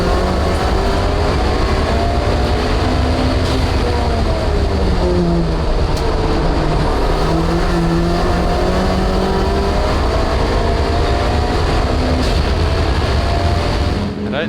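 A heavily modified Audi A3 race car in British motor racing roars steadily through its gears, its loud engine note rising and falling continuously as it drives on circuit, with no other voices over it.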